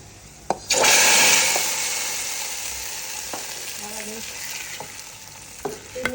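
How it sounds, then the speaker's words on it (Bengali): Dried chilies and garlic cloves hit hot mustard oil for a haleem tempering, erupting in a loud close sizzle that gradually settles into steady frying with faint clinks of a utensil. "হালিমটা বাগার দেওয়ার জন্য এখানে আমি সরিষার তেল দিয়ে নিছি আর শুকনা মরিচ আর কিছু শুকনা মরিচ আর কিছু রসুনের কোয়া নিছি"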